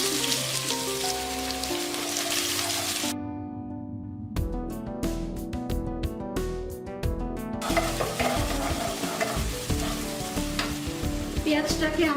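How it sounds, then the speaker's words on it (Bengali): Chopped onions sizzle in hot oil in a pot alongside whole spices while being stirred, a dense crackling fry broken by a short burst of sharp scraping clinks from a spoon in the middle. "পেঁয়াজটাকে আমি হালকা ব্রাউনি করে ভেজে নেব"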